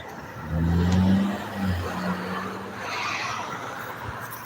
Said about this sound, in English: And then I got all these cars here.